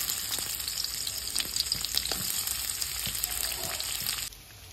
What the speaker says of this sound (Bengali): আর একটু কড়াই তেল দিয়ে দেবো, দিয়ে সমস্ত সবজিগুলো আমি একটা একটা করে ভেজে নেব। প্রথমে আমি পেঁয়াজটা দিয়ে দেবো।